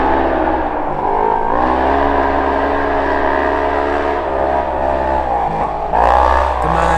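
RS1 race car built for a Red Bull race, its engine revving hard and holding a loud, sustained high-rpm roar with a brief dip and a fresh surge near the end.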